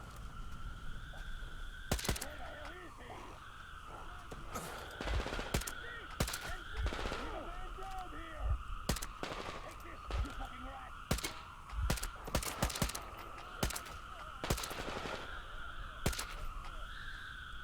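Enemy gunfire in the shooter game Metro comes in repeated sharp bursts and single cracks at irregular intervals, some loud and close, over a low game ambience.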